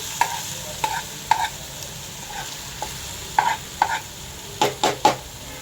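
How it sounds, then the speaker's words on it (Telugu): Pumpkin and ginger chutney being stirred in a pan, a spoon scraping the bottom in a series of short, close strokes over a faint steady sizzle, with no voices. "కొంచెం దగ్గరుండి తిప్పుతూ ఉండాలి ఎందుకంటే అడుగు అంటుంది అనమాట"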